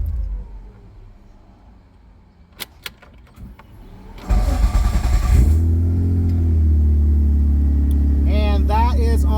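Car engine with Haltech management doing a warm start on E85 and E98 fuel: quiet cabin with a few clicks, then the starter cranks and the engine catches into a loud, steady idle, with a voice talking near the end.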